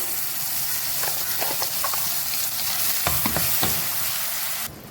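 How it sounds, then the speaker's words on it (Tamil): Ground mint paste sizzling in a hot pan while being stirred, a steady crackling hiss with several clustered scrapes and taps of the spoon, close and fairly loud. "இப்போ நம்ம இந்த அரைச்சி வச்ச விழுதை வந்து இதில் சேர்த்துக்கலாம்"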